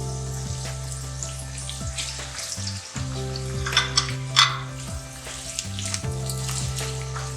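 Green chillies dropped into a pan of partly cooked onions with black pepper, sizzling and frying steadily at close range, with a few stirring scrapes and brief pops breaking through the continuous hiss.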